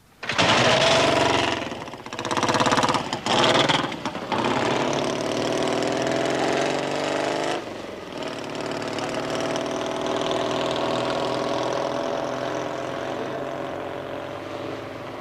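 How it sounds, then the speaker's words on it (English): A loud custom chopper motorcycle engine, in London in 1973, revs in several bursts, then settles into a steady running drone that fades slightly. "Andy offers John a lift up to Golders Green on his newly completed chopper."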